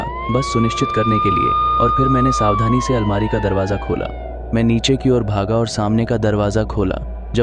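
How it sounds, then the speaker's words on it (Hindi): A police siren wails steadily in the background, rising and falling, while a voice narrates continuously over it. "जब तक कि मुझे बाहर सायरन की आवाज़ सुनाई नहीं दी।"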